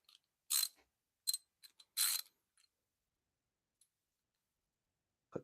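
Sharp metallic ratcheting clicks from a wrench on a 10 mm ground bolt of a 2005 Chrysler 300 engine, a few short bursts spaced by silence, close and crisp.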